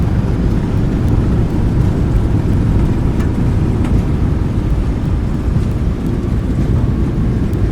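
Thrust reversers roar on a Jet2 Boeing 737-800 landing in Microsoft Flight Simulator 2020, a loud, steady low rumble that fills the whole stretch without letup.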